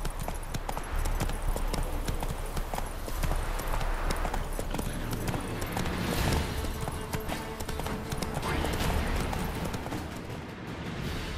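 Steady clip-clop of horse hooves running throughout, loud and close, in the video game The Witcher 3: Hearts of Stone, with a busy, dense game-like soundscape layered underneath.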